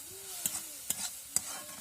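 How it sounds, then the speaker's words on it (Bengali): Faint sizzle of onions frying in oil in a pan, broken by three sharp spatula scrapes at a steady pace, with no talking. "এইদিকে পেঁয়াজ আপনার ভাজা হচ্ছে তেলে"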